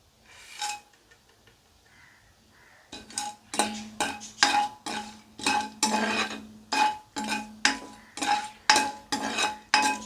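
Whole pulao spices are stirred in hot oil in a metal pan, producing a rapid, rhythmic series of close metallic clinks and scrapes from the spoon after a quiet start.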